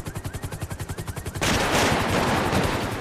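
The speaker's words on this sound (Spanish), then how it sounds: "Que me matan disparándome del heli, bro." Helicopter gunfire in a GTA roleplay game: a steady pulsing rotor beat gives way halfway through to a loud, dense, continuous burst of automatic fire that lasts to the end.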